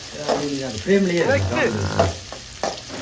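Shallots, chilies and curry leaves sautéing in a pan for a fish curry, with a steady close sizzle, scraping stirs and several loud spoon clatters, and a voice-like harmonic sound early on.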